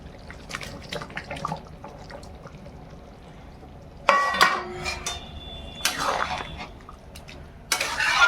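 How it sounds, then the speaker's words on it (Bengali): Fish pieces are dropped into a pot of boiling fish curry, bringing a few sudden splashing plops and clatters of a utensil against the pot after a quieter stretch of bubbling and clinking, close and fairly loud, with no talk. "ভালো করে ঝোলটা ফুটে গেছে এবার এর মতো আমি মাছগুলো দিয়ে দেবো"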